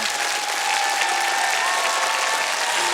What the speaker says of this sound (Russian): сегодня эти аплодисменты этого зала адресованы тебе